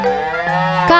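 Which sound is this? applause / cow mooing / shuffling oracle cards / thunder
cow mooing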